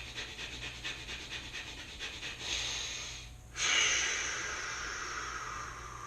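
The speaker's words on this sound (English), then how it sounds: "this is kind of a fast in and out breathing motion" Rapid nasal in-and-out breathing of the breath of fire exercise, a steady rhythmic huffing through the nose that swells into a louder, longer rush of air partway through, close to the microphone with no talking.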